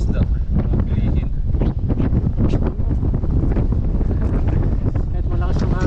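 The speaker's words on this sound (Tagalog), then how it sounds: "Kahit malakas yung hangin eh." Strong sea wind buffets the microphone with loud, continuous roaring gusts, with muffled talk faintly underneath, on a fishing shore with big waves.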